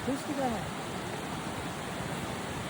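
Steady, dense rushing of a forest waterfall fills the whole clip, a constant broad roar with a faint voice briefly audible at the start.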